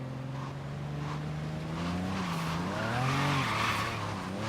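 Race car tires skidding and squealing in the Forza racing game, a loud continuous screech with engine drone that rises and wavers over several seconds, alone without talk.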